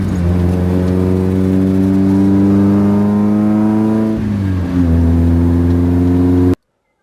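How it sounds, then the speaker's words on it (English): A loud, steady drone from an Austin car engine on a long road drive, with harmonics holding level, dipping briefly near the end and then settling again before an abrupt cutoff. "I'm not sure you're getting how loud and annoying this car is."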